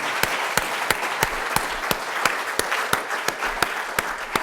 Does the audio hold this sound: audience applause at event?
yes